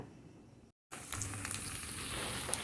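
Banana flower fritters fry in a wok of hot oil. A close, steady sizzle begins after a brief gap of silence and crackles evenly through the rest, with no voices.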